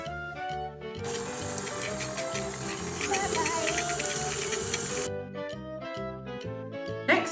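An electric mixer beats softened butter and sugar for cookies, a loud, steady whirring hiss in the middle stretch, with quieter kitchen clatter and faint background music before and after.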